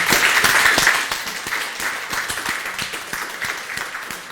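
Warm audience applause after a performance, a loud burst of dense clapping that thins into scattered individual claps and slowly fades.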